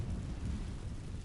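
A fire spell cast in a Hogwarts Legacy battle, heard as a dense, roaring low rumble, loud and steady throughout like a burst of flame, with no voices.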